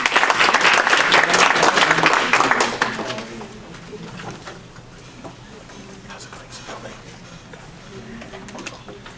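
An audience claps to welcome a lecturer before a history talk, a loud burst of applause for about three seconds that then fades into scattered claps and quiet room noise.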